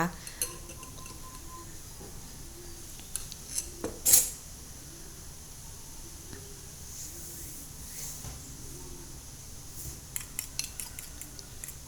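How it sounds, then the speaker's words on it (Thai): Soft, steady clinking of a utensil against a bowl, a quiet whisking rhythm with one sharper clatter partway through. "คนๆไข่ให้เข้ากันนะคะ"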